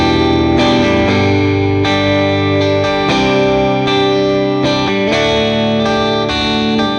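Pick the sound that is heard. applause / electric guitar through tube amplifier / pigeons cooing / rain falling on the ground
electric guitar through tube amplifier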